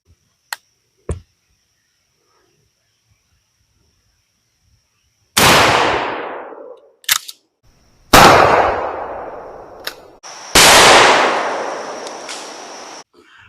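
Winchester 1300 12-gauge pump shotgun firing 2.75-inch Winchester Super X game loads outdoors at a target, three loud booming shots with long decaying echoes, separated by the clack of the pump action and a few sharp clicks.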